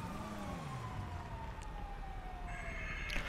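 Multiple police car sirens wailing in the game GTA, overlapping sweeping tones, some nearer and some farther off, a steady chorus of sirens over a low rumble of traffic with no talking.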